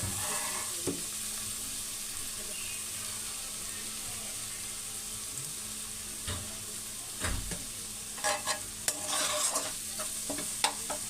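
Fenugreek leaves with onion-garlic masala sautéing in a pan for lasooni methi, a faint steady sizzle that picks up scattered scraping stir strokes toward the end, close and alone.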